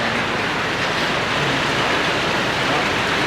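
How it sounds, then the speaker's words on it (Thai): Heavy rain pours steadily during a storm in southern Laos, a dense, continuous roar with no pauses, close and loud throughout. "ได้แล้วฝนตกพายุเขาพี่น้อง"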